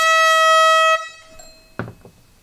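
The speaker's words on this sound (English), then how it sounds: "So I plan to solve that problem with an air horn." A loud, blaring air horn used as an alarm clock sounds for about a second, then cuts off, followed by a sharp knock.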